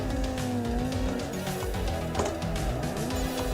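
Car tires squealing while drifting in Assetto Corsa, a loud wavering high screech over a revving engine, continuous through the short burst with pitch sliding up and down.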